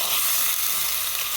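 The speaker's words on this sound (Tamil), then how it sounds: "சொய்யுங்குது பாருங்க" Pork frying in a pan at a village cooking setup, a steady loud sizzle crackling continuously throughout with no talk.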